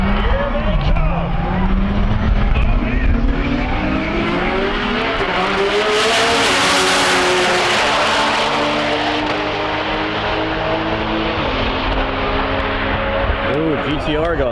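A twin turbo Viper and a Nissan GTR drag race past at over 200 mph at TX2K21, engines screaming with rising and shifting tones as they approach, peaking in a loud roar, then fading away.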